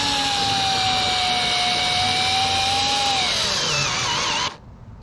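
A Fanttik NEX L1 electric screwdriver drives a screw with a steady, close whirring motor tone that dips in pitch as the screw seats, then cuts off abruptly into quiet.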